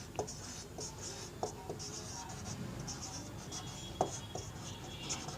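A marker or chalk scratches and taps on a board in short, faint strokes with occasional sharper clicks, under quiet background room noise during a maths lesson.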